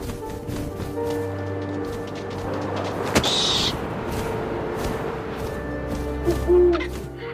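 An owl hoots amid steady wind ambience in the video game What Remains of Edith Finch, with soft low calls over a continuous airy rush and a brief gust midway.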